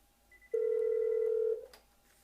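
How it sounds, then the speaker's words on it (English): A single steady telephone tone from an office phone system on speakerphone, one long sustained beep of about a second, clear and close, with no talk over it. "If I wanted to call Alan on his telephone, I could simply dial 200"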